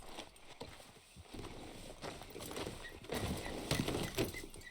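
Horse hooves clip-clop in Red Dead Redemption 2, a steady rhythmic trot at moderate distance with outdoor ambience, with no talk over it.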